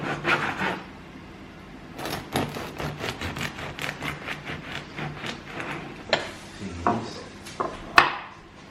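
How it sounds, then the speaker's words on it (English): A knife saws through a loaf of bread in a home kitchen, giving a run of repeated scraping strokes at close range, uneven in rhythm, with a few sharper knocks and no talking. "So I'm going to get this bread cut up."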